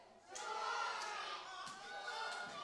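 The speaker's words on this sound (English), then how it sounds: "the crowd certainly seem to have decided what side they're on in this contest, with some fairly choice words for Jason Reed" Wrestling crowd at a charity wrestling show jeering a wrestler named Jason Reed, a dense murmur of many voices with scattered shouts and sharp calls rising over the steady crowd noise.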